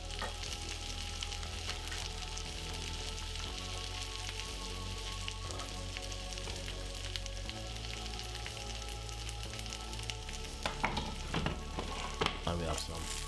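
A steak fries in a pan alongside potatoes, tomatoes and grilled onions, its soft continuous sizzle quiet under background music, with a few sharper crackles near the end.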